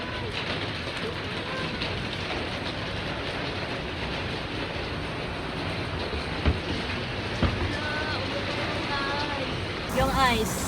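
Continuous rattling patter of hail or icy precipitation hitting surfaces in Kuwait, with a few sharper knocks and people talking near the end.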